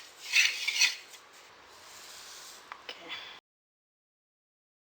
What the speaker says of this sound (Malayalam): നുറുക്ക് ഗോതമ്പ് ഇനി തീയൊന്ന് ശ്രദ്ധിച്ച് നല്ലപോലെ വറുത്തെടുക്കണം.